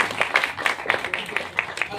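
An audience at a government college gathering in Mirpur claps in a quick, even rhythm of sharp, separate hand claps, with voices mixed in.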